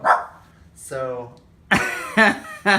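A dog gives a few sharp barks, close by, in between stretches of a person talking.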